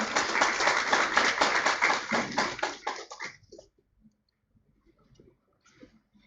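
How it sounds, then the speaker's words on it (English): A crowd claps and applauds for about three seconds at a research writing workshop, then the clapping fades out into near silence with a few scattered sounds. "Give a big round of applause everyone."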